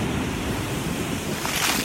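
Big ocean waves breaking in Monterey Bay make a loud, continuous roar of surf with wind buffeting the microphone, heard without any voices.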